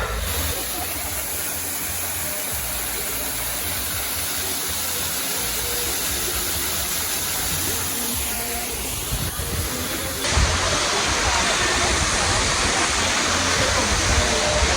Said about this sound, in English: But I can kind of sight the waterfall over there.